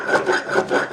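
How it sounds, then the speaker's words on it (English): Rasping metal file working a kingpin part on a Datsun truck to gain clearance, a steady back-and-forth scrape repeating about four strokes in a second, close and loud. "clearance filing"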